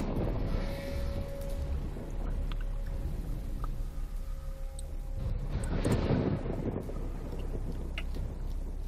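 Thunder effect from a shock-type shotgun-like weapon in Borderlands: a low rumbling crackle that swells and fades across several seconds, with a brighter surge partway through and a faint tonal hum at the start.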